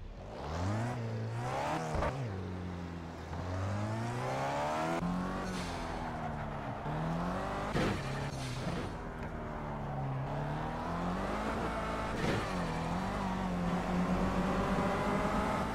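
Engine of a KTM X-Bow race car in the racing game Project CARS, revving up and down through repeated gear changes, rising and falling whines with sharp shift blips, loud and steady with no talk.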